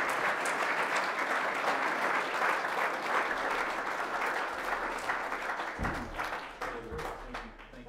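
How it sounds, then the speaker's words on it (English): An audience at a cinematographers' society event gives warm, sustained applause, steady and moderately distant, thinning toward the end as a few voices and stage sounds come through. "please give Ron a warm round of applause to, as he comes to the stage"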